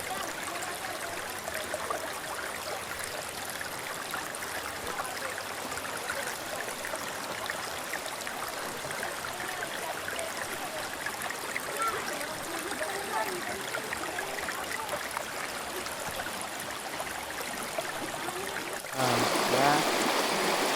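River stream flowing steadily in a constant broadband rush, moderately faint, with a sharper splashing change near the end.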